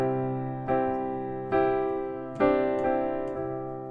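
Pop piano fill moving back and forth through sus2 chord voicings, several sustained struck chords ringing out in a slow sequence, solo and close.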